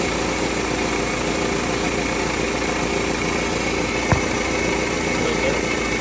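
A 2001 Toyota Camry engine idles with a steady, even rumble for several seconds. One faint click sounds partway through, and nobody speaks.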